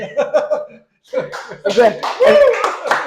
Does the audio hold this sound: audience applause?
yes